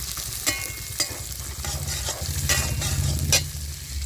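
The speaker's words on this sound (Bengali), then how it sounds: "এবার আমি দিয়ে দেবো এখানে ভেজানো মটর। এটাকে হালকা একটু ভেজে নেব।" Soaked peas stir-fried in oil for singara filling, a continuous sizzle punctuated by several sharp spatula scrapes and clacks against the pan, close and loud, no speech.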